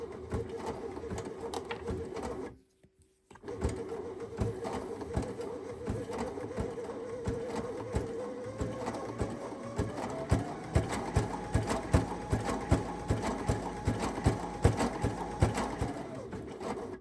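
A Baby Lock Sashiko sewing machine stitching up close, its rapid mechanical whir and chatter running steadily, broken by a short pause, then picking up again with a higher hum and quickening, even clatter.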